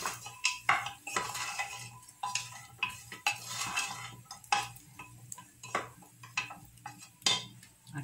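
Seasoned food with pepper, cumin and salt sautéing in a pan, a steady soft sizzle under repeated close clinks and scrapes of a spoon stirring against the metal.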